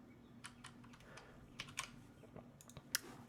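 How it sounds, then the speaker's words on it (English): Typing on a computer keyboard while using a note-taking app on elementary OS: a quiet, irregular patter of key clicks with a few sharper taps, no speech. "It is hard to type while talking at the same time."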